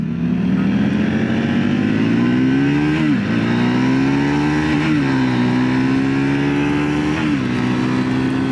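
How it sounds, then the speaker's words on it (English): A 2025 Triumph Scrambler 400X motorcycle runs wide open at full throttle, its loud engine drone climbing in pitch with several brief dips between gear changes, heard up close from the rider without speech. "That's me full throttle. Like, that was wide open the entire time."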